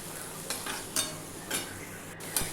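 Potato peels crisping in a hot pan, with a steady sizzle and the spatula scraping through them in several regular strokes, close and moderately loud, with no voices.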